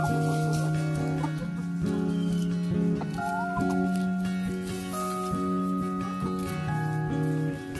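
Chickens cluck and chatter in a steady, dense barnyard chorus, with overlapping calls and a sustained tonal drone throughout, close and continuous with no one speaking.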